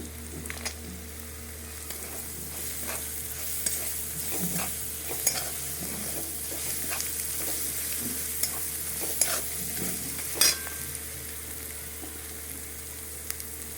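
Vegetable pulao fries in a pan while a utensil stirs it continuously. The close sizzle stays steady, broken by rhythmic scraping and light taps against the pan, one sharper knock near the end, and no voices.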